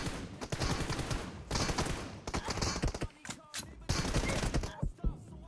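Gunfire in the mobile battle royale game PUBG Mobile, with loud repeated bursts of rapid shots, broken by short pauses and mixed with other game noise.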